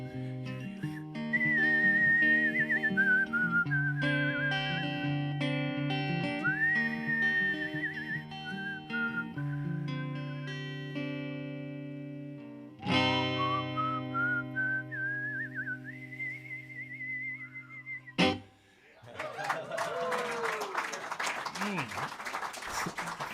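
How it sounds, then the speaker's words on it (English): A man whistles a melody at a live roots and gospel music performance, the clear sustained tones gliding between notes over accompanying music, with a short burst of applause and crowd noise near the end. "It's so hard to whistle, but I'm gonna try."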